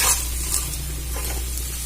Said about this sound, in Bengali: এটা কিন্তু খুব ভালো করে ভেজে নিতে হবে